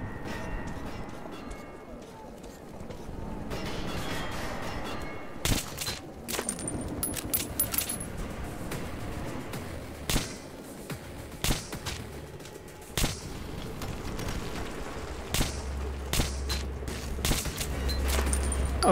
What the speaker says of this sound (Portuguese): É muito tiro que vem ali